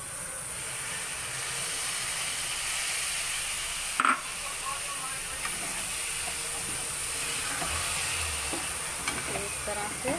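Tomato puree hits a hot pan of dum aloo with a steady hissing sizzle that runs the whole time, a brief louder splash partway through and faint voices in the background.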